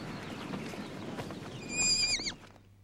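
A very small horse, about the size of a big shaggy dog, gives one clear, loud whinny with a falling, wavering pitch, over a steady background of outdoor noise.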